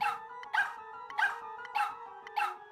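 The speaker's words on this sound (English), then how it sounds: "I don't know how many barks this dog has though." A dog barks in the video game Super Mario Maker, five evenly spaced yappy barks over a steady low tone, clear and fairly close, no talking.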